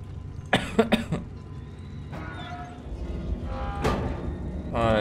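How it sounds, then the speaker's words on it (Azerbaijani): A man with an irritated, sore throat lets out a few sharp, strong coughs early on, followed by rasping throat sounds and breathy noises, close and fairly loud. "güclü bir öskürdüm gəldim"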